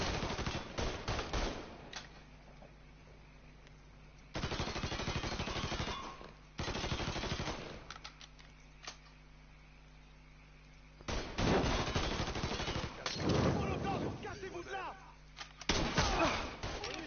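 Video game gunfire in loud sustained automatic bursts separated by quieter stretches, close and harsh, with a voice at times under the shooting.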